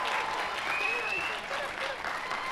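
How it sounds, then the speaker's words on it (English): Steady crowd applause at a university commencement ceremony for health and human services graduates, sustained and even throughout, with voices mixed in. "please stand up, or at least wave so we can give you a round of applause"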